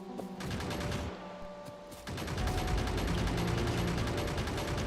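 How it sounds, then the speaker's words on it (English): Automated turrets in the Factorio video game fire in rapid, continuous bursts, loud and close, with a short dip near the second mark before the clatter thickens again; no one speaks. "we're gonna have to tank some more hits from some turrets"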